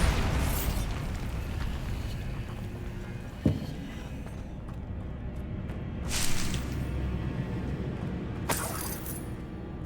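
A Bombarda spell blast in Hogwarts Legacy on PS5: a short sharp thump, then two brighter bursts a few seconds apart, all fairly faint over a quiet game background.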